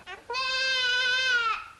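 A goat gives a single clear, drawn-out bleat lasting over a second, close and loud, with no talking.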